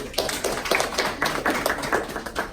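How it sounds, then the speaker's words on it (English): An audience gives a round of applause, a dense patter of many hands clapping steadily and fairly close, with no voices over it. "y'all give him a round of applause"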